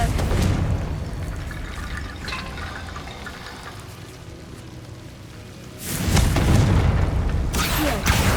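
Two loud magical blasts from the Confringo spell in Hogwarts Legacy, a booming burst at the start and another around six seconds, with rumbling, crackling texture in between.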